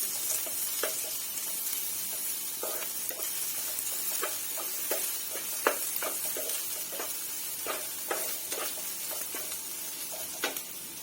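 Crushed ginger and garlic sauté in a pan for mushroom masala, a soft steady sizzle with occasional scraping stirs of a spoon, quiet and close, no talking.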